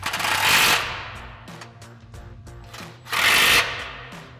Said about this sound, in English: grab our 15 mil socket on our impact and tighten these down